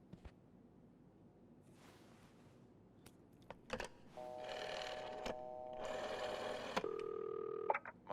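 Telephone in the video game This Bed We Made: a few soft handling clicks, then steady dial-tone and ringing tones that hold for a couple of seconds each, fairly loud with no talk.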